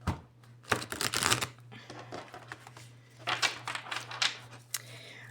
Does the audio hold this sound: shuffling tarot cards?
yes